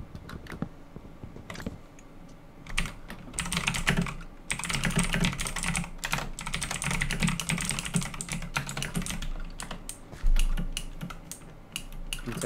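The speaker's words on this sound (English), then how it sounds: "Intensive typing." Computer keyboard typed on rapidly and intensely during a gaming session, dense bursts of clattering keystrokes in quick runs with brief pauses, close and clear.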